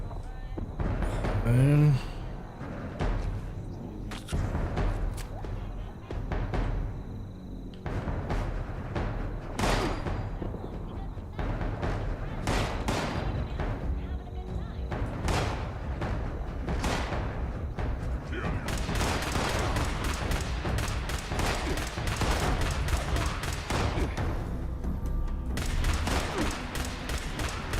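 Repeated bursts of gunfire in the video game Fallout 76, scattered shots and rapid volleys running throughout at steady loudness, with a voice talking over parts of it.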